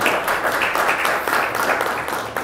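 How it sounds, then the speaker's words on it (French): A lecture audience at a business school master class applauds steadily, a dense, even wash of many hands clapping for a couple of seconds. "on va applaudir avec un tonnerre d'applaudissements"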